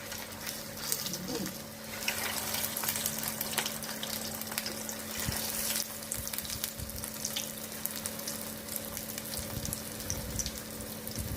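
Chicken cutlets fry in hot oil, with a dense, steady bubbling sizzle up close and occasional light clicks as pieces are placed and shifted.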